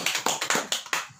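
Applause at a film awards event, a handful of sharp, evenly spaced claps close by, sounding like a small group or single pair of hands rather than a large crowd.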